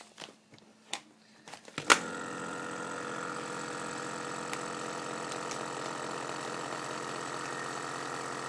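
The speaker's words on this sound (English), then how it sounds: "Get our vacuum sealer." A vacuum sealer closing a Mylar food storage bag: a few light clicks, then the motor starts with a sharp jolt and keeps up a steady, close mechanical hum.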